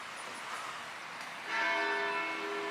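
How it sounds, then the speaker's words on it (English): The bell of St. George's Church in Fredericksburg rings outdoors, a faint, distant tone that swells in with sustained ringing overtones above soft background ambience. "The bell over at the St. George's Church."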